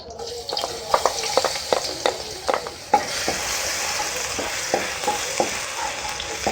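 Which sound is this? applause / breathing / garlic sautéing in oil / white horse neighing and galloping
garlic sautéing in oil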